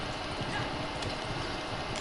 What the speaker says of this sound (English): 2 horses and you can't even move half as fast as mine.